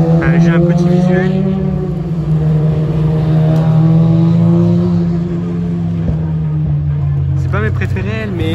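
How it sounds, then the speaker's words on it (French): A hill-climb race car with a motorcycle engine and plastic bodywork drones loudly and steadily, its pitch easing slightly, then a sharp rev rises near the end, with a voice talking over it. "C'est juste un châssis, du plastique en carrosserie et des moteurs de moto."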